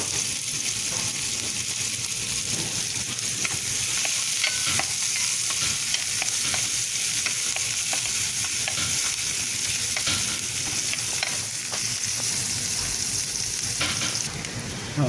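Sliced onion frying in hot oil, a loud, dense and continuous sizzle with occasional stirring scrapes, close up and without any talk.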